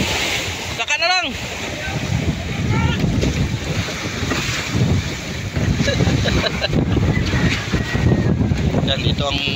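Ocean waves slosh and surge around a small service boat at sea, a steady loud wash mixed with wind buffeting the microphone, plus one brief creak and people talking faintly underneath.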